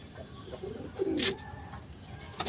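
A female pigeon kept for sale coos quietly at close range, a few short low murmurs amid faint rustling and brief sharper noises.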